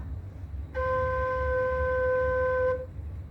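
A single sustained note re on a Thai khlui flute, clear and steady, sounds for about two seconds over faint low background noise.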